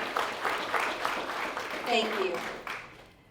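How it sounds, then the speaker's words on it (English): A rally audience in Norfolk claps for themselves, a steady spread of applause running through the clip while a speaker's voice comes over it, fading out near the end. "clap for yourselves, please"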